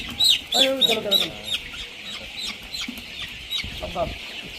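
Twenty-day-old colour broiler chickens on a poultry farm cluck and squawk loudly up close in short bursts, with brief human speech mixed in.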